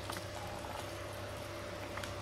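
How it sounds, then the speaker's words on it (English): Milk boils in a pot for lauki (bottle gourd) kheer, giving a steady low bubbling hiss that is close and fairly quiet, alone throughout. "Now you can see milk is started boiling"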